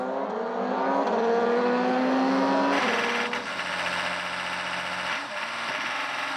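LMP prototype race cars, including the number 7 Audi, leave the pit lane for WEC qualifying at the 6 Hours of Bahrain, engines rising in pitch as they accelerate, then a louder passing roar with several cars overlapping.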